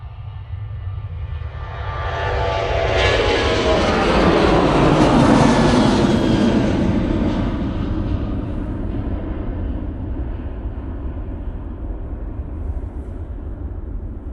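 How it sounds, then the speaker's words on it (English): A Ryanair Boeing 737-800 taking off at Manchester Airport on a frosty day, its jet roar swelling to a loud peak as it passes and then fading into a lingering distant rumble. "There goes that Ryanair 737-800 off to Belfast."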